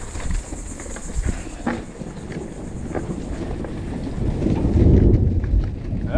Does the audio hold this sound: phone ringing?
no